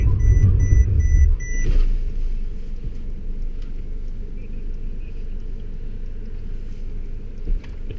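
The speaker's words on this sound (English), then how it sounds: "beeping and the braking" A 2017 Mercedes-Benz E-class with Drive Pilot sounds a short series of evenly spaced high warning beeps over heavy cabin road rumble, then brakes automatically as a deep, steady drone carries on.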